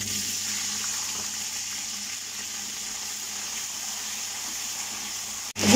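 Water pours into a cooking pot of fried onions for potato and pea pulao, a steady hissing, sizzling gush close by that continues evenly before a sudden clunk at the end.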